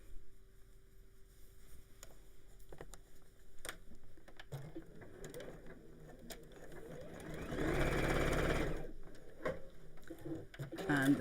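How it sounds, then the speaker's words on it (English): A sewing machine stitches fabric at a home sewing session, starting with faint taps and a low hum, then running steadily in a louder, whirring burst near the end, with speech around it. "and sew."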